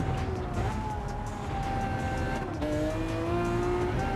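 Engine roar of a Lamborghini race car in Gran Turismo 7 on a sunset Atlanta track, a steady loud drone with rising and falling pitch as gears shift, running alone without talk.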